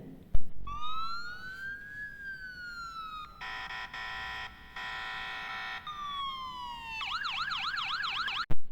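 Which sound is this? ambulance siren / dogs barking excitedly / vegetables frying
ambulance siren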